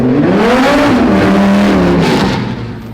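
A 2011 NHRA Superstock drag car engine roars extremely loud and close, its pitch rising then settling in a sustained howl before easing off at the end.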